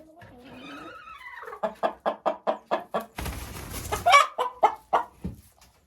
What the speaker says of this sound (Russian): А вот курица кричит